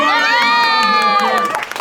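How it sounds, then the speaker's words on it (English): An audience on a Movie World studio backlot tour cheers and shouts loudly in a dense, high-pitched burst of voices that swells and then fades with scattered calls. "Round of applause."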